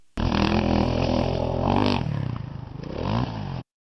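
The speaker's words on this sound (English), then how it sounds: "You hear the burp? You hear the vroom." A motocross bike engine revs hard and steadily for several seconds, its pitch wavering and rising before cutting off abruptly.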